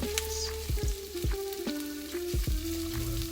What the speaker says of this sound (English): The sizzle begins.